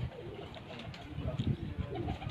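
Racing pigeon cooing softly on a rooftop loft, low muffled coos repeating close by, with faint background noise.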